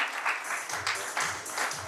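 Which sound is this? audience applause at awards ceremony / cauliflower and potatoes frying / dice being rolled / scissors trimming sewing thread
audience applause at awards ceremony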